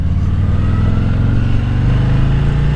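A 2022 Harley-Davidson Fat Boy with a 240 rear tire rumbles steadily while being ridden, its deep engine loud and close, with no talk over it.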